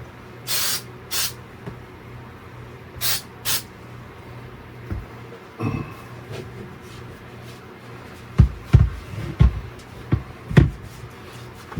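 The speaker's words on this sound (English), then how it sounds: "I'm going to spray the back of this." Aerosol spray cans hiss in several short bursts onto the back of a 3D printed 26-inch Super Mario figure, with pauses between, followed by louder handling knocks near the end.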